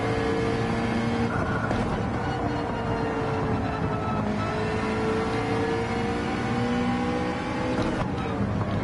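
Race car engine in Gran Turismo 7, a mid-engine car racing against other drivers, droning steadily and continuously with rising and falling pitch through acceleration, loud and unbroken throughout, with faint background sounds layered under it.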